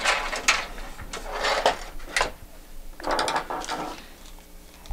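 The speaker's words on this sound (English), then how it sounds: "Simply place the PSU into the case." An ATX power supply unit is set into a bare computer case, giving a few bumping, scraping metal clunks and slides in uneven bursts, close and moderately loud, with no voices.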